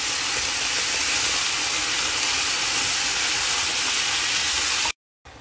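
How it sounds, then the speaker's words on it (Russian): Chicken pieces with carrots and mushrooms frying in a pan over very high heat, a loud steady sizzle and hiss running unbroken for about five seconds before cutting off abruptly. "И также обжариваю на сильном-сильном огне."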